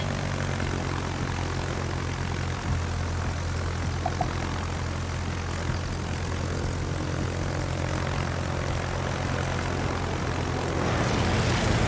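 A propeller plane's engine drones steadily throughout a World of Warships naval battle, a loud continuous hum that holds level and swells slightly near the end, with no talking.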